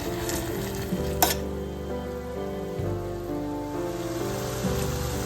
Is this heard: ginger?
yes